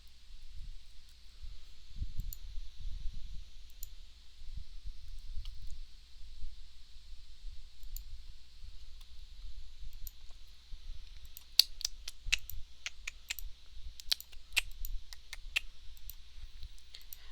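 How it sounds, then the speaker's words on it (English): Computer mouse and keyboard clicks during 3D model work, quiet and scattered at first, then a denser run of sharp clicks, over a low background hum. "if you hear a lot of clicking and stuff, that's why"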